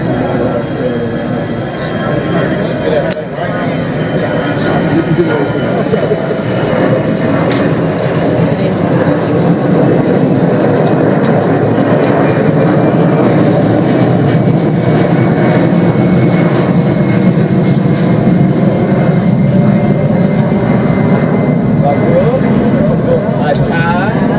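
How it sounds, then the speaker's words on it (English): An airplane passes overhead during an outdoor gathering, a loud, continuous broadband engine roar that holds steady for the whole stretch and drowns out everything else nearby. "Wait till the plane passes."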